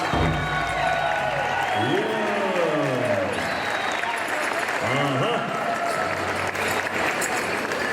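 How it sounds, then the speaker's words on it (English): At the Mall of America Pow Wow in 2016, a large crowd applauds loudly and cheers, with voices talking over the clapping throughout. "One more time, ladies and gentlemen, a big round of applause."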